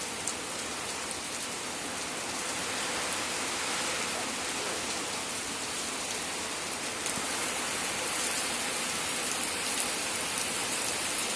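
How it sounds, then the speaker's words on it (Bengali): Steady rain falls hard on outdoor surfaces on a farm, a dense, even hiss of droplets that continues unbroken throughout. "কি দেখো, বৃষ্টি পড়ে"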